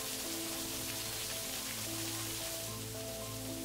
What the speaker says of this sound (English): it suddenly started raining, although no rain was forecasted for the next weeks